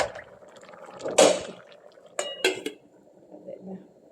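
A lid is set onto a cooking pot while leafy kangkong cooks, giving a sharp metallic clank followed by a couple of lighter rattling knocks, close and fairly loud against a quiet kitchen background.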